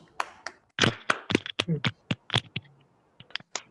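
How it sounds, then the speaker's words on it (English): A small online meeting group gives a round of applause, sparse and uneven individual claps and taps rising into a denser patch, then thinning out to a few isolated claps. "can we have a huge round of applause for Toastmaster Divyan Sharma from everyone"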